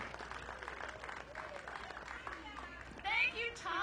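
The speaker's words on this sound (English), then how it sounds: "give one more round of applause while I'm standing up here" Crowd applause at an outdoor sand sculpting festival opening ceremony on a beach, steady scattered clapping with voices and a brief louder burst near the end.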